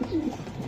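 A racing pigeon in a loft gives a single short, low coo close by, brief and unaccompanied by speech.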